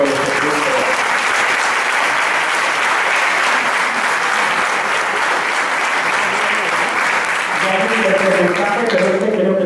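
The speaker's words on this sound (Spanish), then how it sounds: "junto a tu esposo Juan José González, para ellos también pues un cariñoso aplauso." Loud, sustained applause from a large audience at a jota folk dance event, with voices speaking briefly at the start and again as the clapping continues near the end.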